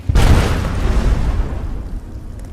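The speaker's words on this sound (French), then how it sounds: "Une explosion, mais qui ne m'a fait aucun mal." A loud explosion in the video game Skyrim, a sudden deep boom that rolls on and fades slowly over about two seconds, heard alone without voices.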